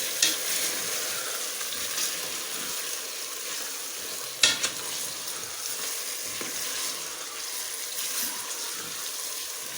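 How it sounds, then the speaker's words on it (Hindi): Chicken fries in a pan with a steady, close sizzle that lasts throughout, broken by stirring scrapes and one sharp knock of the utensil partway through. "अब मैं इसे भूनूंगी जब तक चिकन का कलर बदल नहीं जाता।"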